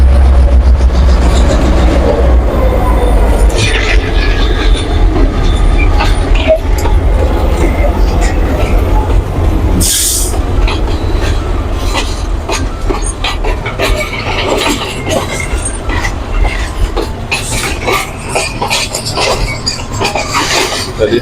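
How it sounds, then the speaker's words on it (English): An alumina freight train rumbles past in Jamaica between Spanish Town and Old Harbour, heard close and loud with a low steady roar, clattering wheels and rattling wagons over a long stretch, while people talk nearby. "So this is the alumina train that's heading to"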